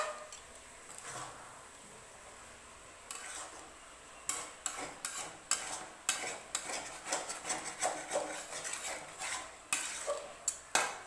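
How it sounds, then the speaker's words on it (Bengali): Mustard greens frying in a pan are turned with a utensil: a soft sizzle at first, then a run of rhythmic scraping and clacking strokes that grows busier toward the end. "তো শাকটাকে নেড়ে চেড়ে একটু ভাজা ভাজা মতন করে দিচ্ছিলাম।"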